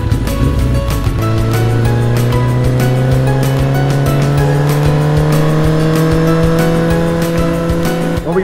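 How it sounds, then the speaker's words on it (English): A restored old motorbike engine runs loud and close, holding a steady rumble for the whole stretch while its tone slowly rises in pitch. "My project was to restore an old motorbike."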